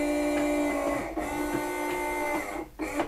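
A Nivona 690 coffee machine with its side cover open powers up, giving a steady mechanical whirr and hum with short pauses and a brief dip near the end, close and fairly loud, with no talking.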